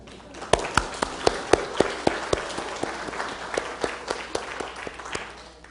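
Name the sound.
applause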